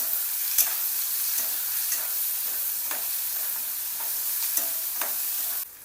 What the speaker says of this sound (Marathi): तेल गरम झालेलं आहे, थोडं हिंग टाकायचं, जिरे, लसणाची पेस्ट, कापलेला कांदा